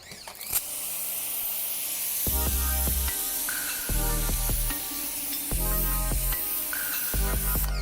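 A CAT electric pressure washer fitted with a yellow nozzle sprays a concrete surface, giving a steady, loud hissing spray throughout, broken by repeated short tonal bursts that sound like music.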